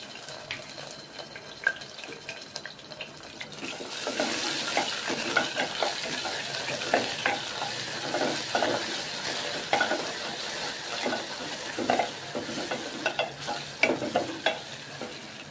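Golden brown onions sizzle in a cooker as chili and ginger garlic paste are added, the frying rising to a steady hiss with scraping stirs, moderately close and without talk.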